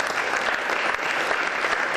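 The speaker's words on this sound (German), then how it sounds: "Ich möchte einfach Beifall klatschen." A seated audience in a conference hall applauds, a dense, steady clapping that runs loud and unbroken throughout with no voices over it.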